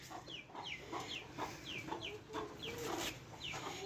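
Hens clucking in short repeated bursts around a backyard coop in Bahawalpur on a sunny winter morning, the calls close and steady over a soft outdoor background.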